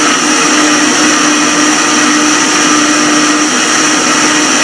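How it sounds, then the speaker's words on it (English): A kitchen blender mixing a Christmas mocktail whirs loudly and steadily at constant speed, a dense close-up motor roar with no talking over it. "You just have to squeeze the stuff, put it in the blender."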